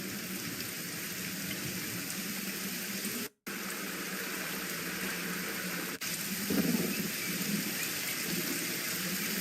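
Steady heavy rain hisses continuously in a video game, dense and close, with a brief cutout partway through and no voices.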